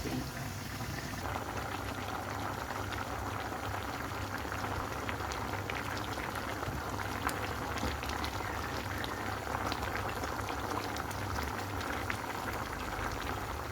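Paksiw made from leftover fried chicken bubbles softly in a pot, a constant faint simmer with small pops and crackles and no voices throughout.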